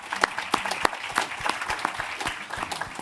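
Audience applause for the panelists at a zero emission HGV and infrastructure summit: a dense, steady round of many hands clapping, fairly loud and close, with no voices over it.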